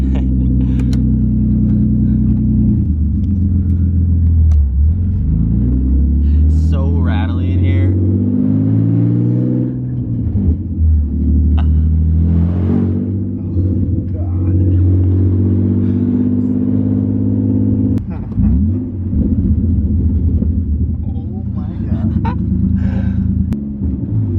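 Nissan 350Z fitted with a DNA catback exhaust revving loudly and repeatedly, a deep rumbling roar close up that rises and falls throughout, with occasional speech mixed in.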